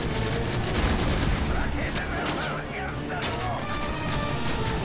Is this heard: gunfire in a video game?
yes